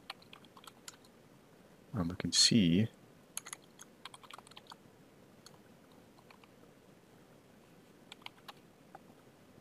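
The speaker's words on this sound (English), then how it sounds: "so let's start typing that." Sparse, quiet keyboard clicks scattered across the clip, with a short burst of speech near the start.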